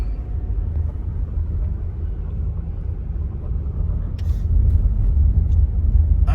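SUV rolling slowly through a national forest campground near Jackson Hole, Wyoming, heard from inside as a steady low rumble of engine and tires on the road, with faint clicks near the end.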